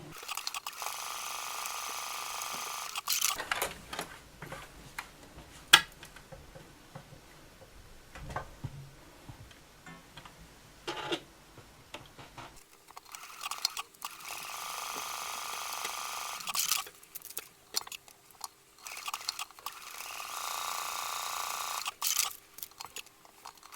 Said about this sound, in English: I'm just going to sew from the top straight down to the bottom